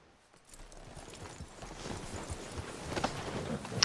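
Horse hooves clip-clop in the Red Dead Redemption II video game, a steady run of soft hoofbeats that builds from quiet to moderately loud over a rumbly outdoor background.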